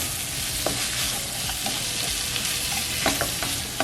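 Mixture for rajas con pollo frying in a pan, a steady close sizzle with occasional scraping knocks of a utensil stirring it, no voices.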